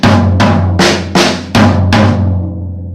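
Six sharp, evenly spaced drum hits move around a drum kit in a quick fill, each strike loud and close with a short decaying ring over a steady low tonal hum, with no talking.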